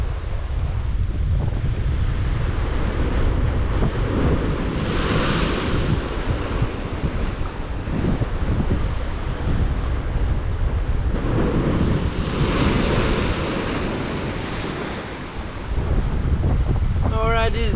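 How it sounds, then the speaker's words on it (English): Strong ocean waves surge and crash on a tropical coast while heavy wind buffets the microphone, a loud, continuous roar with rolling swells throughout. "The waves are so strong and the wind insane."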